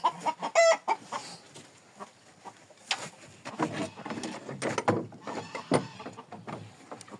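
Several hens cluck and squawk in bursts inside a coop, close by, with a busy mix of calls overlapping throughout.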